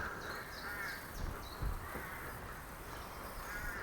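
Harsh cawing from rooks carries through the open air of a churchyard, several overlapping calls at moderate distance with faint rustling beneath.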